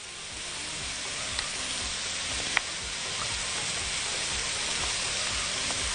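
Starch being stirred in a frying pan while making mushroom stroganoff, giving a steady close sizzling hiss throughout with a couple of faint clicks of the spoon against the pan.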